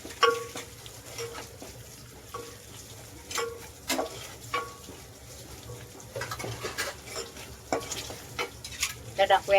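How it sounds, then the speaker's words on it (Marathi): Garlic and ginger paste frying in a pan for spinach bhaji, a steady soft sizzle with occasional stirring scrapes and light clinks from a spoon against the pan. "हे पण टाकूया चांगलं भाजून घेऊया"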